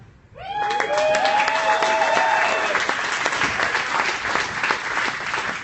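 A large crowd cheers and applauds after the announcement of Valravn, a record-breaking dive coaster at Cedar Point, with whoops and shouts rising over loud sustained clapping that continues steadily for several seconds.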